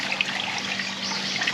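Water running through an RV black water flush hose at a provincial park campsite, a steady close rushing hiss with a faint low hum underneath.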